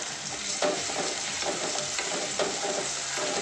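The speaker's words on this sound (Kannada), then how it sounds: "ಖಾರ ಹಾಕೊಂಡಿಂದ ಇದನ್ನ ಮಿಕ್ಸ್ ಮಾಡ್ಕೋಬೇಕು" Garlic and chili powder being stirred into a vegetable curry frying in a pan, a steady oily sizzle with periodic scraping strokes of the spoon, close and continuous.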